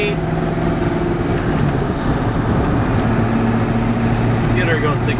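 A wrecked 7.3 Powerstroke diesel truck accelerating on the road toward 65–70 mph, its engine drone and road roar loud and constant from inside the cab, with someone speaking over it.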